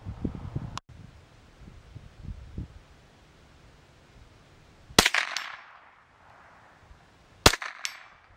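Two sharp gunshots ring out several seconds apart, each followed by a short metallic ring as rounds strike a heavy-duty Action Targets Evil Roy 550 armor steel target outdoors, fired from a distance with faint rustling between shots.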